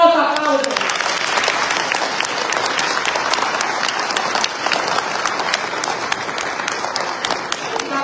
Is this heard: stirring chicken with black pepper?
no